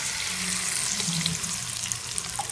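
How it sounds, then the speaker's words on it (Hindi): Water is added to a pan of frying masala and chopped tomato, a loud steady hiss and sizzle of liquid hitting hot oil, close and continuous with no talk. "इसमें थोड़ा सा पानी शामिल कर दूंगी"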